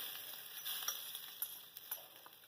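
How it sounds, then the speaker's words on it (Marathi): Hot tempering of oil with chana dal and a pinch of asafoetida poured over green tomato chutney, giving a steady soft sizzle with faint crackles throughout, no talking. "ही फोडणी आपण चटणीवर घालून घ्यायची"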